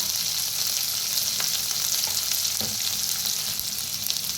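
Spices dry-roasting in a pan for a bitter gourd (karela) dish give off a steady, close sizzle and crackle, with a few light stirring scrapes and no voices.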